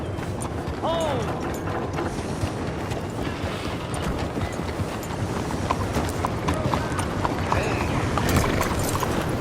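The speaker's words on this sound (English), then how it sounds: "let's take the horse outside for a closer look" A horse in the video game Red Dead Redemption 2 trots outside the stables, its hooves clip-clopping in a steady, close rhythm with creaking tack, while someone talks over it.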